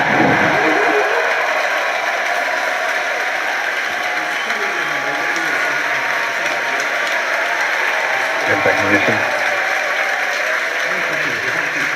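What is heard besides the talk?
cheering during Falcon Heavy launch broadcast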